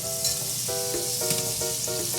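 Half a stick of butter sizzles steadily in a hot pan, a close, continuous frying crackle with a few brief clinks, no voices.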